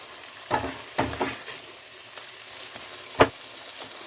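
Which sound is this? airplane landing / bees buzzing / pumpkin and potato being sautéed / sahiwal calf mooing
pumpkin and potato being sautéed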